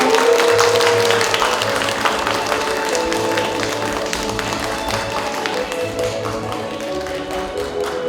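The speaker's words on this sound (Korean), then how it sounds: "여러분 박수 좀 부탁드릴게요" Audience applause at a library policy concert marking the Paju City library's 30th anniversary, a dense patter of clapping loudest at the start and easing slightly, with a faint musical tone early on.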